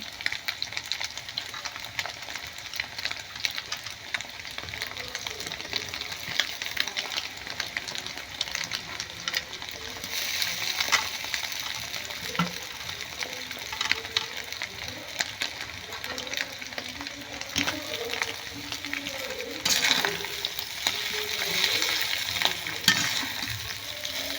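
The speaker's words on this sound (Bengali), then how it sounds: "আমার ডিমটা ভাজা হয়ে গিয়েছে এবার আমি এর মধ্যে দিয়ে দেবো চাউমিন" Chow mein noodles stir-fried in a pan with fried egg sizzle steadily, with scraping stirs and clatter throughout, growing louder and busier after the noodles go in.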